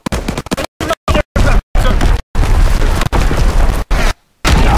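Repeated heavy booms from artillery shelling in the World War II shooter Call of Duty: WWII, loud and close, arriving in a rapid irregular series of blasts separated by brief silent gaps.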